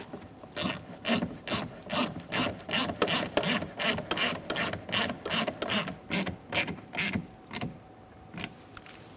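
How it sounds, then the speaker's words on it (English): A ratchet wrench clicks steadily in repeated bursts while tightening a thin-walled socket bolt on a 2004-2009 Mazda 3 front power window regulator, close and clear with a brief pause near the end. "I'm going to tighten down the thin walled socket bolt first."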